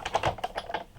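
A manual die cutting machine is cranked by hand, feeding cutting pads with card stock through its rollers; a rapid series of close, dry clicking and ratcheting bursts repeats unevenly for about a second, with no voices.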